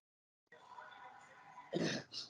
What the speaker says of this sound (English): It was my sneeze.